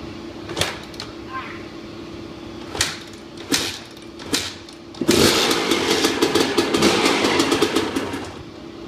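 A cold Suzuki RM125 or RM250 two-stroke dirt bike being kicked over with several sharp bursts, then catching and running with a loud, rapid, steady engine buzz.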